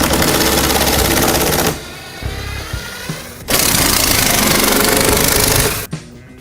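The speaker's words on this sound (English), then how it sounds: "use the small drill bit that is included with the packet and remove the 3 crossbars that are in the middle of the crate." A power drill with a small bit whirs loudly, backing screws out of the wooden crossbars inside a printer shipping crate in two long sustained bursts separated by a pause with brief clunks and handling noises.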